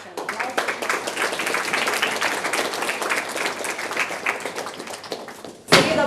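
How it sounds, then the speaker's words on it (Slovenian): Warm audience applause at an exhibition opening after a musical introduction, many hands clapping steadily and then tapering off, ending with a sharp thump. "Tako da še en aplavz."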